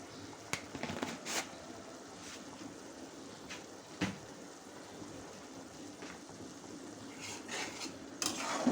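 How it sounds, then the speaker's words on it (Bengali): Masala for a loitta fish curry being stirred and sautéed in a pan over low heat: faint sizzling under intermittent scrapes and clinks of a spoon against the pan, quiet and close, with no talking. "তরকারিটার মশলাগুলোকে আমি ভালো করে কষিয়ে নেব"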